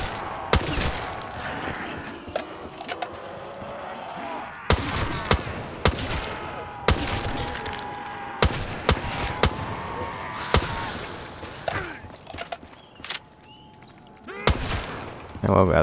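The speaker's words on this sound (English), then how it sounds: "Definitely, this M14 is a great gun." M14 rifle in Call of Duty Black Ops 3 custom zombies, sharp single shots fired at an uneven pace throughout, loud and close, with someone talking between shots.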